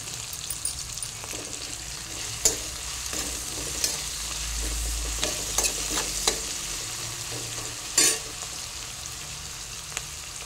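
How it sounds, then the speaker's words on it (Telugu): Curry leaves and ginger garlic paste sizzle steadily in hot oil in a pan for a morning tiffin, with occasional sharp crackles and spoon-stirring scrapes over the continuous frying hiss. "ఇప్పుడు కలపాకు కూడా వేసేస్తున్నా."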